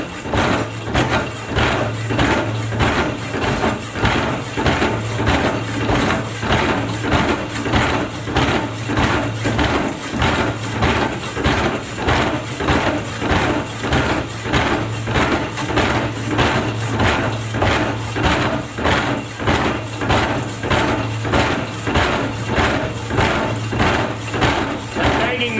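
Racine hydraulic hacksaw running in a shop, its blade stroking back and forth in a steady rapid rhythm of repeated thumps over a continuous motor hum, loud and close throughout.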